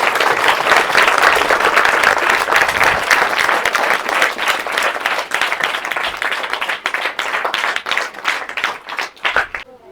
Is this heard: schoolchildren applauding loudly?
yes